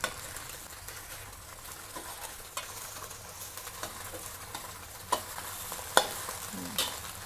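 An omelette is cut into pieces and stirred with a spatula in hot oil, producing a soft continuous sizzle punctuated by a few sharp scraping taps of the spatula against the pan.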